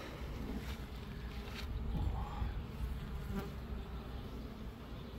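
Honey bees buzz around an open beehive while a second hive box is added, a dense, steady hum close by that fills the whole stretch with slight swells and no talking.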